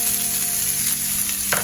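Onions sauté with garlic in a pan over a high flame, giving a close, loud, continuous sizzle and frying hiss with a faint stirring scrape near the end.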